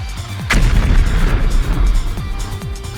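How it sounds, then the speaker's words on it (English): Gas leak in a kitchen ignited by a thrown lighter in a Danganronpa fan story, a sudden loud boom followed by rumbling debris and scattered crashes that fade out. "Once the lighter made contact with the gas leak, it caused the gas to be ignited."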